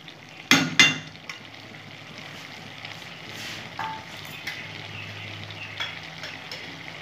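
A hilsa fish head fries in a pan while being stirred: two sharp metal clanks of a utensil against the pan open, followed by a steady soft sizzle with a few lighter scrapes and taps.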